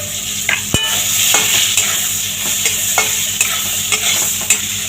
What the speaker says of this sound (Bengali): দেখো ঝিঙেটাও ভাজা হয়ে গেছে